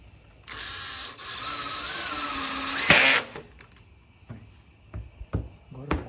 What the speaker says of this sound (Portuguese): Não precisa fazer um furo antes na placa. O parafuso mesmo já pega tudo.